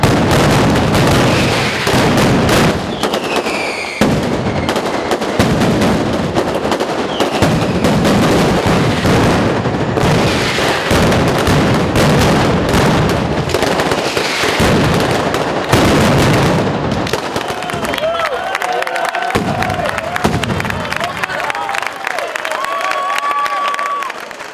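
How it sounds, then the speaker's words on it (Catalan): A mascletà in the Plaça Major of Moixent during the 2014 patronal festivities, fired by the Carlos Caballé pyrotechnics firm: a loud, relentless rapid barrage of firecracker bangs that thunders on, then gives way to crowd cheering and whistles at the end. "es va disparar a la plaça Major una gran mascletà a càrrec de la pirotècnia Carlos Caballé"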